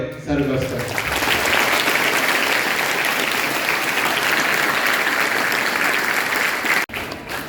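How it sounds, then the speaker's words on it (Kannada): Schoolchildren at a school event break into loud, sustained applause, a thick steady roar of clapping that carries on for several seconds before cutting off abruptly near the end. "ಆಮೇಲೆ ಜೋರಾದ ಚಪ್ಪಾಳೆ ಸರ್ಗೋಸ್ಕರ"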